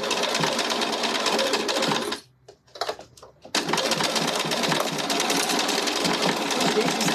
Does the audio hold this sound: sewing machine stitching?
yes